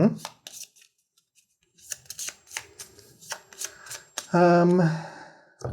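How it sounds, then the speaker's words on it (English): Close, crisp riffle of playing cards being shuffled in quick bursts during a two-player game of Corps of Discovery, with brief pauses between and a voice talking at points. "shuffle it back into your deck"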